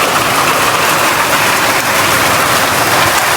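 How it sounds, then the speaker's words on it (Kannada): Heavy rain pours down outside a darkened house during a power cut, a dense, continuous loud hiss with no pauses and no talking. "ಫುಲ್ ಹೆವಿ ರೈನ್ ಇದೆ."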